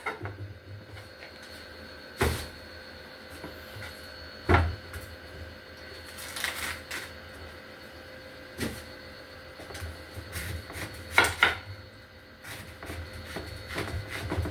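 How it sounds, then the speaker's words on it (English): A knife cuts through a head of cabbage on a kitchen counter, producing sparse, separate chopping thunks spaced several seconds apart over a quiet room background. "I'm going to go ahead and cut up some cabbage."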